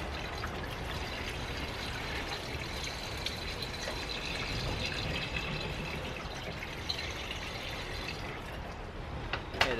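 Coolant pours into a car's header tank as a soft, steady trickling wash that runs continuously throughout, fairly quiet and with no speech.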